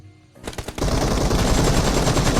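Rapid automatic gunfire in the mobile game BGMI bursts in after a brief quiet start, then keeps up as loud, dense, sustained shooting that fills the rest of the moment.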